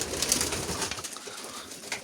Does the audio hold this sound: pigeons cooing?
yes